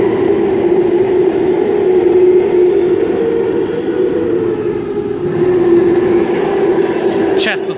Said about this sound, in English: Chatswood service now arriving on platform number 1, stopping next at Chatswood.